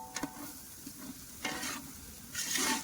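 Tomatoes fry in a pan for sambar with a faint, steady sizzle as a spoon stirs and scrapes the pan in a few short clattering strokes, the last one longer.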